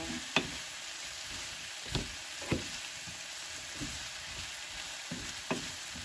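Fried tofu being stir-fried with vegetables in a pan gives a steady sizzle, broken by several sharp clinks and scrapes of a utensil against the pan at irregular intervals, with no voices.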